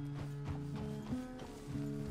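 A horse in Red Dead Redemption II clip-clops at a steady walk, even hoof falls repeating about every quarter second, close and clear over a low background.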